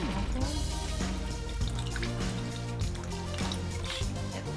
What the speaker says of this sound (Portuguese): E agora você vai colocar 100 ml de água.